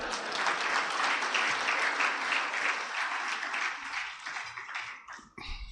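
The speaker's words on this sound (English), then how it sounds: "let's clap for Donovan again" Steady applause from a crowd of many hands at a tax breakfast event, loud and continuous for several seconds before thinning out and stopping near the end.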